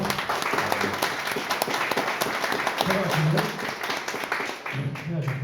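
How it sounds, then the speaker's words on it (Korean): Audience at a National Assembly academic conference on Donghak Peasant Revolution and Eulmi militia honors breaks into sustained applause, steady dense clapping filling the room for several seconds with faint voices underneath. "다시 한번 박수로 해주셔서"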